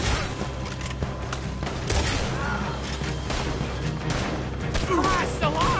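Gunfire in Red Dead Redemption 2 during a fight against an incoming horde, with several shots and booms over a dense, noisy game mix and some speech-like sound.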